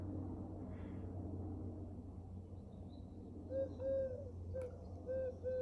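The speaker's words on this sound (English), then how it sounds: "got that little sound of the Pigeon" A short electronic startup chime of soft, pure pigeon-cooing tones from a Punkt MP02 phone plays near the end, a few brief notes over a steady low hum.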